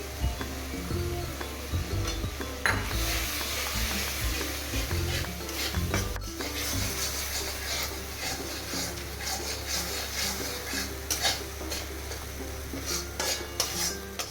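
Cashew, poppy seed and melon seed paste is stirred in a pan, a steady scrape of the spoon over soft sizzling, with a low hum running throughout.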